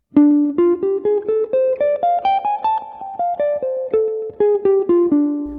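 A guitar runs a D blues scale line with the fifth placed on top, a steady stream of picked single notes climbing then falling back, played clean and close with no talking.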